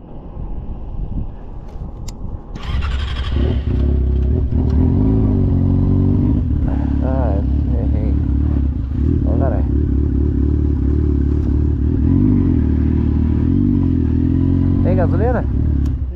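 A Jaguar XJ6 in the Atacama Desert revs, its engine straining and failing to reach full revs, a loud, rough drone that rises and holds with clattering and wind buffeting, while people talk over it.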